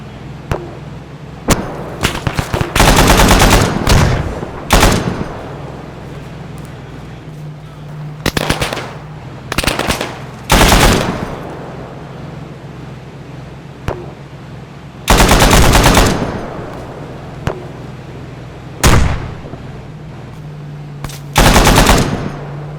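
Bursts of 12.7 mm automatic machine gun fire from a VCR 8x8 Dragon armored vehicle in ARMA 3, loud repeated volleys of varying length separated by short pauses over a steady low engine hum.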